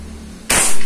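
A single sharp, loud shot from a homemade PCP air rifle built on a mini lathe cracks out after a moment of quiet hum, ringing briefly before fading.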